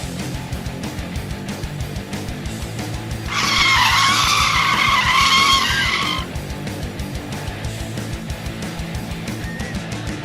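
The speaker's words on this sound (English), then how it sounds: "trying to pull a 360 right in front of a truck" A car skids through a 360-degree spin in front of a truck, a loud, sustained tire squeal of about three seconds rising out of steady road and engine noise, then cutting off.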